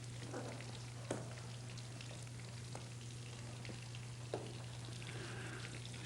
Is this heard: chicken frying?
yes